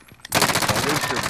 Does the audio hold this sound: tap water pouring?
no